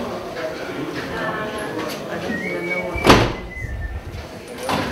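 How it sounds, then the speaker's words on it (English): A door shutting in a room where a talk is about to begin, one clear thud in the middle with faint room noise and shuffling around it. "we're going to close the door and start right now"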